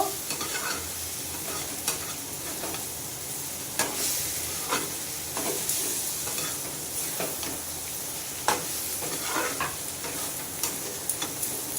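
Chopped aubergine, spices and other ingredients are stirred in a sizzling frying pan, a continuous hiss broken by repeated spatula scrapes and knocks at an uneven rhythm, close and fairly loud.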